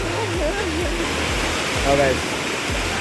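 Banakon Falls pours in a steady, dense roar of falling water, loud and constant throughout, while people talk briefly over it.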